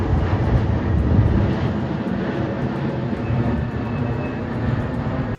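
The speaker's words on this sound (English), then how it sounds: "I will hear an airplane noise that sounds just like this" A fixed-wing airplane passes overhead in Ashburn, Virginia, producing a steady, loud, broadband engine roar that holds for several seconds before cutting off abruptly.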